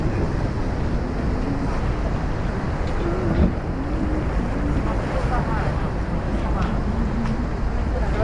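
A boat approaches the Rhine Falls in Switzerland, and the waterfall gives a dense, continuous broadband roar close by, mixed with wind buffeting the microphone. A voice speaks faintly over the steady rush.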